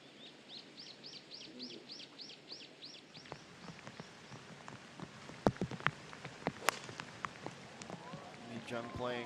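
Steady light rain patters over a golf course at a women's professional tournament in Korea, with birds chirping in the background and occasional sharp drops or taps close by.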